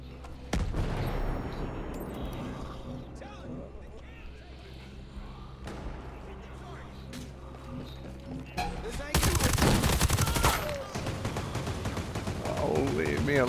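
Automated turret in Ghost Recon Breakpoint firing on the player, heard as sustained rattling gunfire under scattered game sounds, swelling into a louder, denser burst of shots near the end.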